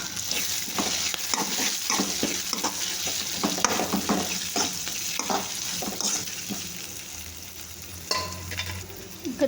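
Crushed garlic sizzling in hot oil in a pan for a sweet corn curry, with repeated scraping stirs of a spoon through the frying, close and fairly quiet, no talking.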